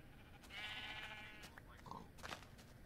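A faint sheep bleats in a blocky Minecraft-style video game, one wavering call followed by a short second sound, with no talking.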